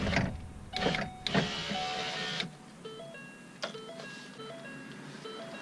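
Power window motor on a 2012 Ford Focus whirring steadily for about two seconds after a few clicks, then stopping, followed by quieter intermittent clicks and faint electronic beeps, close and without speech.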